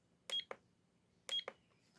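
A small device's alarm button chirps twice, each a short pair of sharp electronic beeps about a second apart, clear and close in a quiet room.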